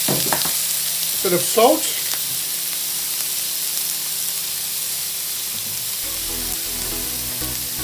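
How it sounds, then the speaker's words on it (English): Seafood sizzles and fries steadily on a hot plate, a loud continuous hiss with brief clatter from stirring and a short spoken line near the start. "I have our seafood. I'm going to throw that on the hot plate."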